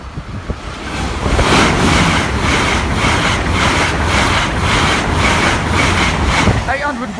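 A Class 800 train, unit 800113, rushes past a level crossing at Bathley Lane, a loud, sustained roar with rhythmic pulsing and heavy wind buffeting close to the microphone.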